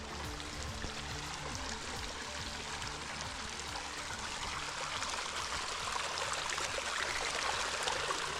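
River water rushes and gurgles steadily over a cut bank into an oxbow during spring breakup, a continuous close flowing sound that swells slightly louder toward the end.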